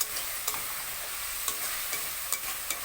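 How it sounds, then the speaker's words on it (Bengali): Egg curry sizzles softly in a pan as Kashmiri chili powder is stirred in, a steady frying hiss punctuated by regular scraping knocks of the spoon. "এবার দিয়ে দেবো একটু কাশ্মীরি লঙ্কার গুঁড়ো, দিয়ে ভালো করে নাড়াচাড়া করে দেবো।"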